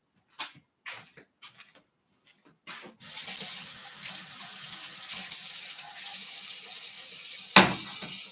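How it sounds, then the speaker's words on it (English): Tap water runs steadily into a kitchen sink to rinse can lids, a continuous close gush after a few soft clatters and knocks, with a brief sharp clink near the end. "But I'm going to go rinse off the lids on these."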